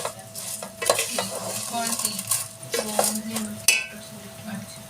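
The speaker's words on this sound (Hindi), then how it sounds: "अब इसको अच्छी तरीके से हम फ्राई कर लेंगे" Vermicelli (seviyan) being fried in a pan while a spoon stirs it, giving scraping strokes, light sizzle and occasional metal clinks, close and fairly quiet with no talking.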